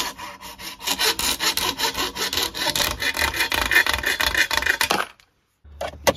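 Hacksaw cutting a liner piece to length with steady rhythmic back-and-forth strokes, close and fairly loud, about a dozen strokes before stopping, followed by a brief knock.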